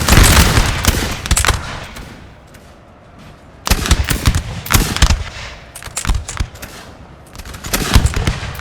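Musket volleys crackle in the Napoleonic-era strategy game Napoleon: Total War during the 1808 Battle of Espinosa de los Monteros, with loud, dense rolling gunfire in repeated bursts and a quieter lull between them.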